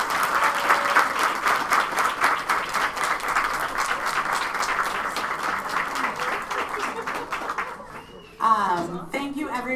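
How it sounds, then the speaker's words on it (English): Sustained audience applause for a panel at an advocacy day event, dense steady clapping for about eight seconds before fading out, after which a voice begins speaking. "Can we get a round of applause for this awesome panel?"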